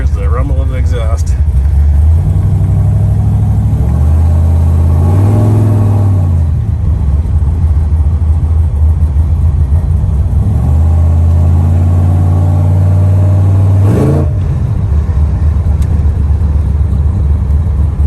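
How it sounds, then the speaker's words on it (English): A 1964 Chevrolet Impala two-door hardtop with a 468 big-block V8 rumbles deeply at idle, swelling through several loud revs that rise and fall, about three distinct throttle blips, with close exhaust burble throughout. "here's the rumble of the exhaust"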